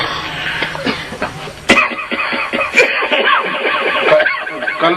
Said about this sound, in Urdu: کچھ دنوں تو پھر کھانسی دا اٹیک شروع ہے